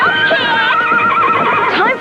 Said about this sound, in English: a black knight on a charging horse